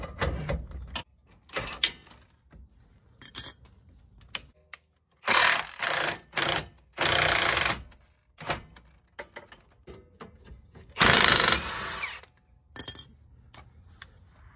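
Impact wrench loosening bolts in short loud bursts of rapid hammering, several separate runs of varying length with quiet gaps between them, close by.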